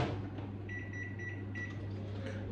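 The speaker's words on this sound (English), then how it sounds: "pop them in the microwave for like, I don't" A microwave oven heating a bowl of oats, a steady low hum with faint high tonal whines layered over it, close and constant with no talking.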